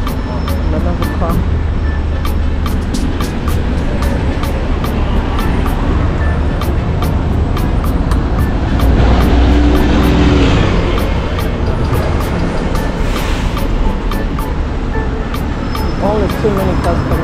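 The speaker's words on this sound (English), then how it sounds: "there's all these cars coming from this end, so you gotta be careful" Cars pass along a busy town street in Romford on a weekday, a steady roadway rumble with passing vehicles close by and people talking over the traffic throughout.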